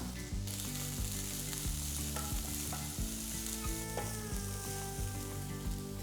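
Sliced shallots, chopped green chilli and curry leaves fry in a pan with a dense, steady sizzle and occasional soft stirring clinks, close and with no talking.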